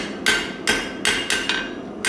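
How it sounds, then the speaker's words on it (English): A hammer strikes a metal scroll on the flat in six sharp, ringing blows at an uneven pace, each followed by a short metallic decay, close and clear with no talking. "you can actually run through with the hammer on the flat"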